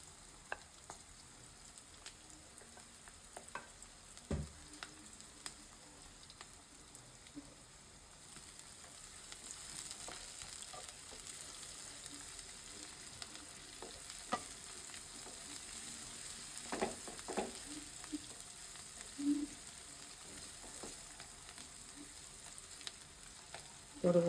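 Onion frying in a pan while making shing fish roe bhaji, a quiet, continuous sizzle with scattered small pops and crackles that grows a little busier toward the end.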